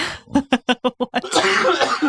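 A burst of six or seven sharp, rhythmic coughs close to the mic, followed by a rougher, breathy stretch like throat clearing or a strained exhale.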